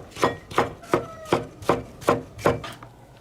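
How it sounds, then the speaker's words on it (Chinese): A knife mincing tomatoes on a chopping board makes eight evenly spaced, crisp chops in a steady rhythm, close and fairly loud, with no voices. "柿子剁碎"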